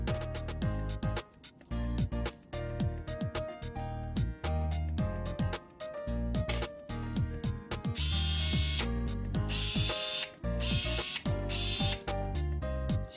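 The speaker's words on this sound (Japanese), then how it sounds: "閉めると緩める、ちゃんと動きます。" An electric screwdriver whirring steadily as it tightens and then loosens a screw on a frying pan lid, motor pitch shifting with direction changes and short pauses, close and loud with no talk.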